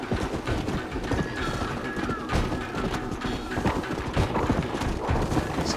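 Rhythmic hoofbeats of a galloping horse in Red Dead Redemption: Undead Nightmare on Xbox 360 clatter steadily under a busy background of game sounds, with a faint whinny mixed in.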